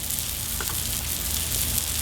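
Garlic and mustard seed sizzle and fry on a hot Cuisinart 360 griddle, a dense, continuous crackling hiss that stays loud and close throughout with no talk.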